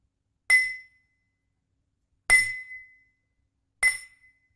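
A spoon taps an empty drinking glass three times, each strike a bright, ringing clink that fades quickly, with clear pauses between the hits and no other sound.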